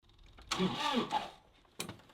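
John Deere tractor engine cranking over in freezing weather, a harsh starter whir with a burst of effort mid-clip that dies away, then a second short crank attempt near the end, close by.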